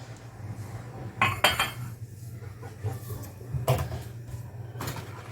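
Crushed biscuits and melted butter being mixed in a bowl, with scattered clinks and scrapes of a utensil against the bowl over a low steady hum, a few sharper knocks standing out.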